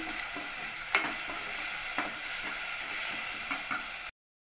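Onions with garlic cloves and ginger-garlic paste frying in oil, a continuous close sizzle broken by regular spatula scrapes and light taps as the mixture is stirred.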